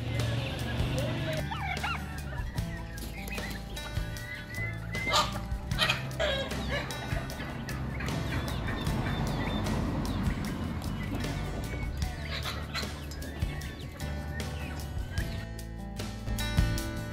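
Dense barnyard fowl calls from ducks, clucking and gobbling, overlap continuously at steady loudness, busy and close, with a dog bark among them.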